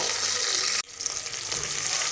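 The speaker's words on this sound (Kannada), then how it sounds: "ಒಗ್ಗರಣೆ ಹಾಕ್ಕೊಳ್ತಾ ಇದ್ದೀನಿ ಇದಕ್ಕೆ ನಾನಿಲ್ಲಿ ಈರುಳ್ಳಿನೂ ಹಾಕ್ಕೊಳ್ತಾ ಇದ್ದೀನಿ" Onions frying in hot oil for a sambar tempering with chilli, a loud, dense sizzle that cuts out for an instant and then resumes with stirring.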